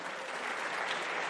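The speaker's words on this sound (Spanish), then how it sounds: "Dale un aplauso al Señor." Brief, fairly faint applause from a church congregation, a dense steady wash of clapping.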